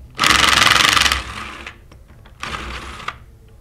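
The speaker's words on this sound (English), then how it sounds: "Today we're going to use a 3-inch drive impact gun for ease of assembly and disassembly." A 3-inch drive impact gun works on the discharge manifold of a Versamatic 1½-inch clamped metal pump, giving two loud, close bursts of hammering, the first about a second long and the second shorter.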